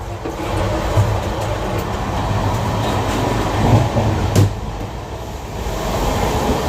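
The new Amrit Bharat Express rumbles along at speed, heard from inside as a loud, continuous roar with low rolling noise and a few faint clicks of the wheels.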